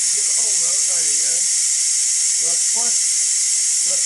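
Steam hisses loudly and continuously from the pressure release valve of a Ninja Foodi Deluxe pressure cooker, a steady close rush throughout, with a voice speaking briefly over it.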